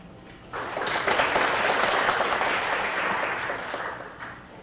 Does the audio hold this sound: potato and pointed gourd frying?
no